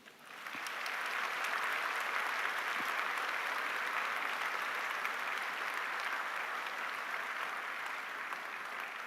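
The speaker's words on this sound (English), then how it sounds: "Let us show some extra appreciation for them with applause." A large audience at a university graduation ceremony applauds the Stellenbosch University Symphonic Wind Ensemble, a dense, sustained roar of clapping that swells quickly and holds steady throughout, without speech.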